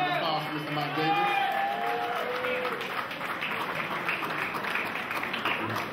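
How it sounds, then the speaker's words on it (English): Audience applause and scattered cheers at a high school awards event greet an honoree, with a voice talking over the opening moments before the clapping carries on steadily. "A round of applause for Mr. Mike Davis."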